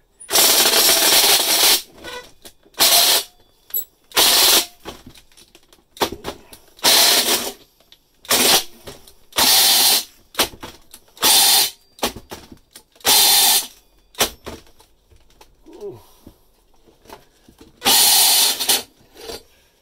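Drill cutting a downlight opening in a ceiling at high power and speed, loud bursts of whirring and grinding repeating roughly every second or two, with short pauses between.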